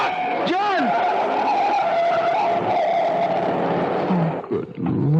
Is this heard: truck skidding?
yes